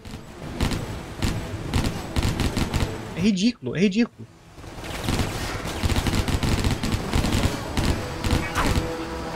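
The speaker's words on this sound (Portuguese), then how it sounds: "Tá atirando, cara. Ele tá levando bala." Heavy gunfire in the Stranglehold action game: dense bursts of rapid shots and thuds crackle almost continuously, pausing briefly midway before resuming, while someone talks over the shooting.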